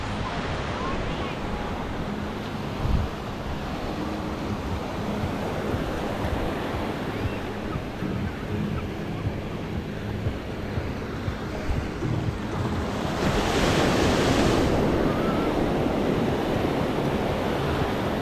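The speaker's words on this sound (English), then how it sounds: "Nice sea breeze" Sea waves and wind on the beach at Fanabe, Tenerife: a steady broadband rush of surf and breeze buffeting the microphone, swelling louder for a few seconds near the end.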